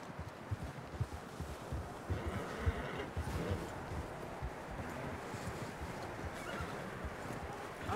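Horses in Red Dead Redemption 2 gallop with steady clip-clopping hooves and give occasional neighs, set against wind and rustling noise in the outdoors, the hoofbeats continuous and moderately loud throughout.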